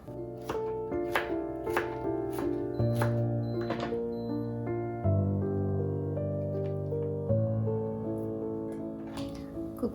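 Onion chopped for a homemade salad, heard as a series of sharp knife thunks on a board, irregular and fairly close, over quiet background music.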